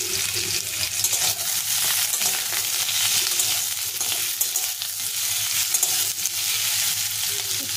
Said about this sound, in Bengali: এগুলো বয়েল করে নিয়েছি, এবার একটু হালকা ভেজে নেব।